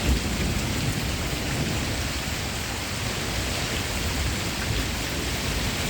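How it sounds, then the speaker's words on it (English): Heavy rain pours steadily during a Cleveland thunderstorm with wind and lightning, a dense, loud, unbroken wash of noise with deep rumbling thunder blended underneath, no voices. "this is a storm that will cause water in basements"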